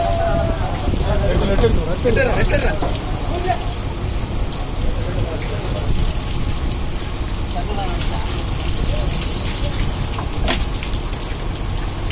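Heavy rain pouring down at sea on a fishing boat, a loud steady hiss of drops beating on surfaces, with someone speaking over it and occasional knocks and rattles from the boat.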